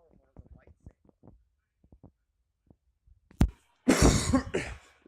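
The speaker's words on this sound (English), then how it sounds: "if you're kind of wondering why I just coughed" A person with a sore throat coughs loudly in a short burst near the end, preceded by quiet, halting speech.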